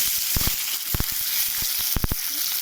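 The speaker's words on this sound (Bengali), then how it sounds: "তেলে ছেড়ে দেওয়া হলো। আলুটাকে লাল লাল করে ভাজবো।" Parboiled potato frying in oil over a constant bright sizzle, with quick clacks from a stirring spoon coming in short clusters, close up.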